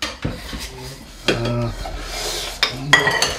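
Dishes are washed after a meal in a home kitchen, with close, sharp clatters of plates and cutlery knocking together in a few separate bursts, plus scraping and rubbing between them.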